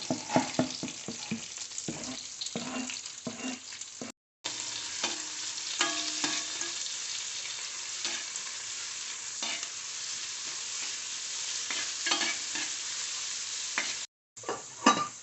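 Green chili, curry leaves, ginger, onion, carrot and garlic sautéing in a pan, a continuous close sizzle broken by irregular stirring scrapes, with two brief cuts to silence and no talk.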